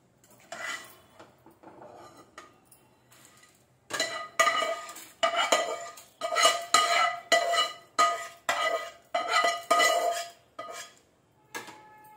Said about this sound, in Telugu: ఇవన్నీ ప్లేట్లో తీసి పెడుతున్నాను